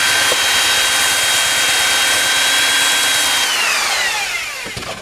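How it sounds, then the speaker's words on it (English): A belt sander runs loud and steady with a high whining tone and broad grinding hiss, its pitch sliding downward near the end as it slows, with no one speaking. "so we're going to use the belt sander"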